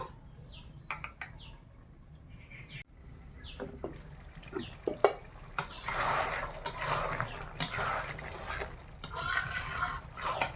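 Chicken curry is stirred and sautéed in a pan until the oil separates from the meat: a spatula scrapes with light clicks at first, then steadier, louder rasping strokes toward the end.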